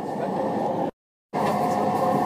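JR Yamanote Line E231 series train heard from inside a car on the inner loop, with a steady low rumble and hum of running, cut by a short gap of silence partway through.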